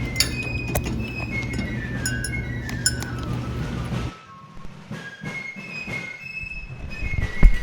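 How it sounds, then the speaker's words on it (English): Ingredients for a kid-friendly cherry bounce stirred in a glass with ice, heard as repeated close clinks and tinkling knocks over a steady background, then a quieter stretch of scattered clinks. "just mix that all up until it becomes nice and well combined"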